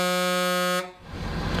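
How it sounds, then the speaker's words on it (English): An air horn on a Ford Super Duty pickup blasts one loud, steady, buzzing tone for under a second, then cuts off into a hissing release of air and low outdoor noise. "You got the air horn. That's a good way to release it."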